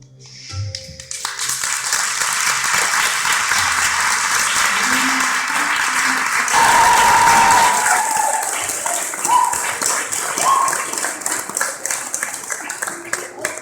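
Clapping fills the hall at an ISKCON Montreal Nrsimhadeva Appearance Day celebration after a devotional performance, a thick, sustained wave of applause lasting over ten seconds with a few voices rising above it.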